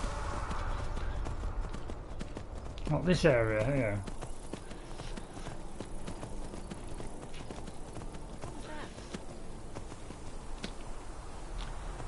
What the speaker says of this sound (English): I'm trying to just get on this horse now.